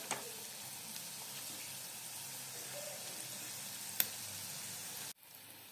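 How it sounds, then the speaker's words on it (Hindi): Potato vadas for vada pav fry in oil over a medium flame, giving a steady, soft sizzle that holds evenly for about five seconds, with one sharp click near the end before it cuts off. "दूसरी बाजू तल लेते हैं। हमें मीडियम फ्लेम पे ही तलना है।"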